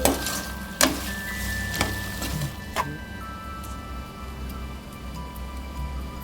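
Tomatoes sauté in a pressure cooker pan for mint rice. A low, steady sizzle is punctuated by a few sharp metallic taps of the spoon against the pan, with a faint tonal hum behind.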